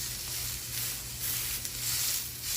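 Mushroom and cheese stuffed chicken sears in a pan with a steady, close sizzle and soft crackling hiss that holds throughout without talk.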